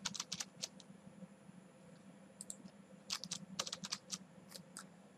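A password typed on a computer keyboard during a Kali Linux install in VMware: light, quick keystrokes in small irregular clusters, close and fairly quiet over a steady low room hum.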